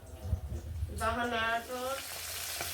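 Chickpeas and potatoes fry in a pan with a steady, soft sizzle, and a brief tonal, hum-like sound rises over it midway.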